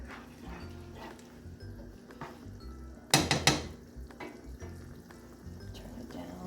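Sausage and fresh tomato pasta sauce being stirred in a pan, with a soft steady simmer, scraping and clanks of a utensil against the pan, and a pair of sharp louder knocks partway through.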